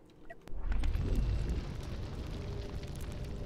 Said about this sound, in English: I like the thruster sound, just sounds like something's on fire.